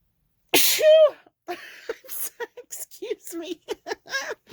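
One loud close sneeze bursts out during a paper-crafting session, followed by a few soft breathy sounds and mumbled speech.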